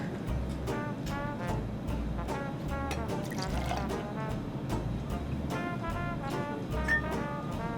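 Cold milk is poured into a cup over ice and coffee syrup, a close, gentle glugging stream whose pitch climbs in bursts as the cup fills, with soft splashes between.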